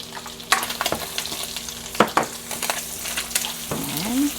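Onion sizzles in hot oil in a pan, with soft frying hiss and several sharp stirring scrapes and clicks from a utensil, close and fairly quiet.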